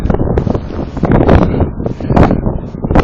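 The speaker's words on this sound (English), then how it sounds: "You can just listen to the roar in this wind." Strong, roaring gusts of high wind buffet the microphone continuously during a storm with high wind warnings in Martinsburg, Pennsylvania, the loud, dense rush swelling and easing in surges with no talking.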